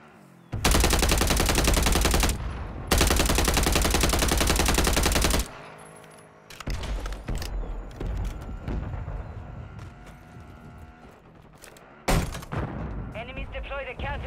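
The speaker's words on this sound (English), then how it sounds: "Requesting fire mission. Target marked. Copy. Mortar strike inbound now." Mortar strike explosions in the shooter video game Call of Duty arrive as two long, loud bursts of continuous heavy blasting, followed by scattered thumps and another burst, mixed with game voices and radio chatter.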